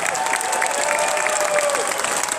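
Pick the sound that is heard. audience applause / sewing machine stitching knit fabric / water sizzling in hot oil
audience applause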